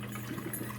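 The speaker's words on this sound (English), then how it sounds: "the classic brew button lights up, and the coffee maker will start brewing" Plain water runs through a Ninja Coffee Bar glass carafe coffee maker, a steady low gurgling hum with a soft continuous liquid trickle, close and moderately quiet.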